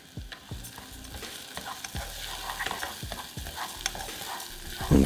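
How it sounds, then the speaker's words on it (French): Round rice toasting in olive oil with white spring onion in a saucepan, giving a soft sizzle under repeated scraping and stirring strokes of a utensil against the pan. "dans une casserole, on fait revenir le blanc de cébette dans de l'huile d'olive, puis on vient nacrer le riz rond quelques minutes"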